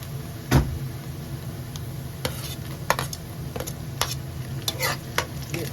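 Garlic fries in a pan with cumin, for a potato and tuna dish, giving a steady sizzle broken by a few sharp utensil clatters and stirring knocks.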